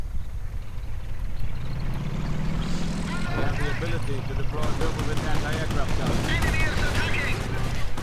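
Bursts of heavy machine gun and rifle fire in a WWII strategy game battle with a Wirbelwind and Panzer IV, dense crackling volleys under a commentator's continuous talk, growing busier in the second half.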